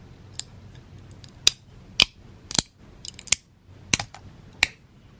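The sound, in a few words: peeling 3D prints off the printer bed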